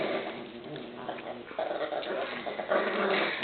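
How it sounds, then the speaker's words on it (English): Dogs fighting, with snarling growls, yelps and whimpers overlapping at mid distance, the scuffle growing louder toward the end over muffled background voices. "Dogs are fighting."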